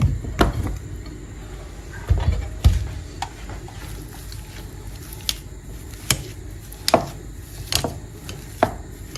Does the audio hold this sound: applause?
no